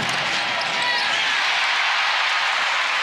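Basketball arena crowd at Hilton Coliseum during an NCAA women's tournament game, UT Arlington against Iowa State, swelling into a loud, continuous roar that fills the space, with faint sneaker squeaks beneath.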